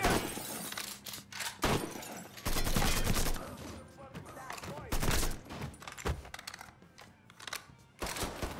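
Gunfire in Mafia III comes in repeated broadband bursts under and between excited voices, with several loud volleys spread across the stretch.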